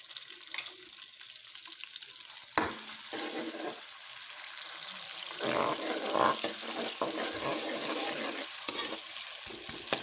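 Onions frying in a pan alongside chicken boiling for haleem, a steady loud sizzle with bursts of stirring and scraping throughout, no voices.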